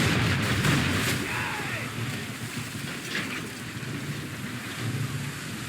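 Ship cannons firing broadsides in Assassin's Creed III, a heavy rumbling barrage of booms rolling out over a steady wash of rain and sea noise. A voice calls out over the guns.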